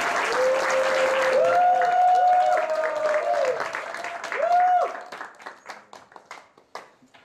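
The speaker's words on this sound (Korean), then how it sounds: "박수로 환영하겠습니다." A church seminar audience claps to welcome a speaker to the stage, sustained applause heard under a voice speaking over it, then thinning into a few scattered, separate claps as it dies away.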